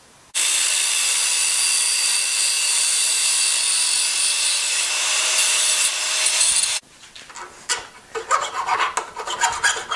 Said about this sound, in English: I'm going to take the angle grinder and we're going to lop off these ears